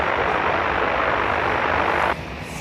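An Aer Lingus airliner departing Dublin Airport for Lyon produces a loud, dense engine roar that holds steady and then drops slightly in level near the end.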